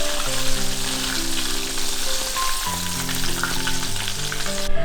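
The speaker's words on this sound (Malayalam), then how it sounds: "ഇനി നമ്മൾ രണ്ടാമത് ഒന്നുകൂടി ഫ്രൈ ചെയ്യാൻ പോവുക." Japanese karaage chicken pieces deep fry in hot oil, a loud, close, continuous bubbling sizzle with fine crackle, steady throughout, while soft tonal music plays underneath and no one speaks.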